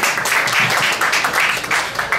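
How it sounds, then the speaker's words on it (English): A room of conference attendees claps for incoming speakers, a lively, even burst of many hands that stays near and full, with no voices over it. "Give a round of applause to"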